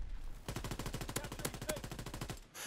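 Gunfire in Call of Duty WWII erupts as a fast, sustained automatic burst of sharp, evenly spaced shots lasting about two seconds, then cuts off abruptly.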